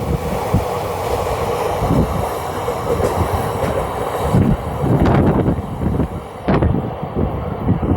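Hool Express running from Howrah to Siuri, a steady loud rumble of the moving train with rail clatter and wind buffeting the microphone, a few sharper clacks standing out throughout.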